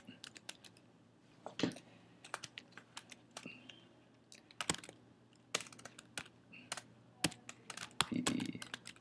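Typing on a computer keyboard while writing a new direct message on Twitter, with quick irregular key clicks in bursts, close and moderately quiet, with no talking.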